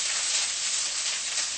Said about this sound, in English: so onions into the frying pan.